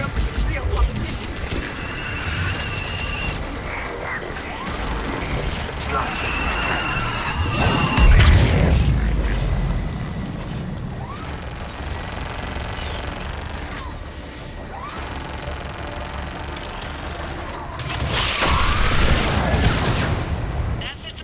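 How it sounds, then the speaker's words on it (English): A missile salvo fires in the Mass Effect 3 video game, booming launches and rumbling impacts swelling twice amid constant combat noise, with voices talking over the action. "Firing another salvo."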